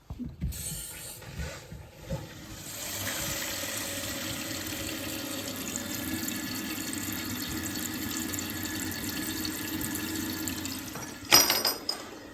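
A Kohler toilet tank fills through a newly replaced fill valve with a steady hissing rush of water, preceded by a few clunks and ending with a sharp knock.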